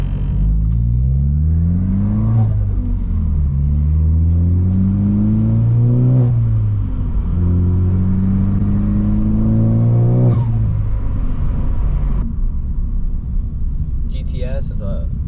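A car engine revs hard and loud close by, its pitch climbing repeatedly in several long pulls, dropping back between them, with a steady rumble underneath and a brief rattle near the end.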